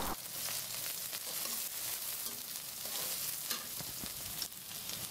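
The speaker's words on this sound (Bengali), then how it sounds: "পেঁয়াজ ভাজা হয়ে গেছে।" Chopped onions sizzle steadily in a pan while a spatula scrapes and stirs them in repeated strokes, with a few sharper taps against the metal. There are no voices.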